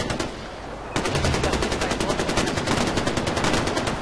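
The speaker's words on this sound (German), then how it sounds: "Alter, wohin knallt ihr?" Automatic gunfire from the video game Far Cry 4: after a brief opening burst, a long rapid stream of loud shots rattles on at an even pace for about three seconds.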